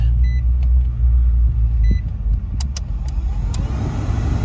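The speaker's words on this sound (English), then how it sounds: "I hear the motor blowing right now." A steady low blower motor rumble with a whooshing fan hum inside a Nissan NV200 with the AC running, plus a few faint electronic beeps and clicks, no voices.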